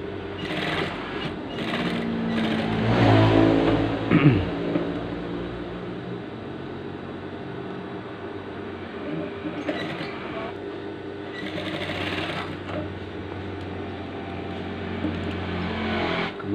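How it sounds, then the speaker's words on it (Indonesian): Sewing machine stitching long basting stitches along the neckline lining of a gamis dress, a steady close mechanical whir running throughout with a few brief pauses and louder bursts. "Jalan mesinnya dijarangin."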